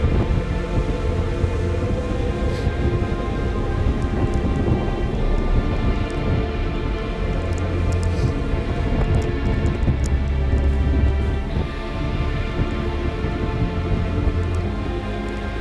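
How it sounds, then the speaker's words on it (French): A Tornado Alley thunderstorm in 2018 pours heavy, constant rain while low rolling thunder rumbles beneath it for the whole stretch, dense and loud with no talking. "L'orage finit par nous avaler"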